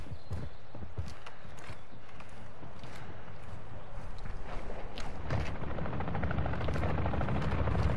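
Helicopter rotors thump steadily in the video game Call of Duty Warzone, a low rhythmic chopping under game noise with scattered sharp impacts, moderately loud and building slightly toward the end.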